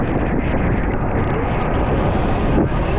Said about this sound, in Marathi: आज खूप वारा सुटलाय आणि पाऊस सुद्धा